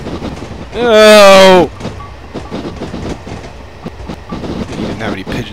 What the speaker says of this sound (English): Another train! Signs of life!